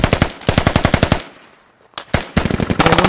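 Automatic rifle fire in the Squad infantry shooter, with rapid, loud close bursts of shots, a short lull, then more sustained fire with sharper, denser rounds.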